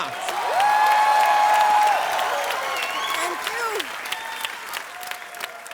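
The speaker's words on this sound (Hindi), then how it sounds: "जोरदार तालियां।" Steady, loud applause from a large TV comedy show studio audience fills the whole stretch, with a few voices calling out and some tonal sounds rising above the clapping.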